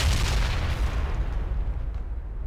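Large explosion in the World War II shooter game Enemy Front, a loud rumbling boom with heavy low-end roar that slowly decays over a couple of seconds, with no talk over it.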